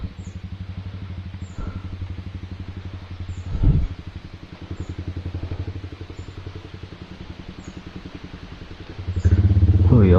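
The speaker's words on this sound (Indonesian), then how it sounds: "ada orang naik motor" A motorcycle engine putters along a forest track, its rapid rhythmic firing heard at moderate distance, swelling briefly in the middle and growing louder and closer at the end.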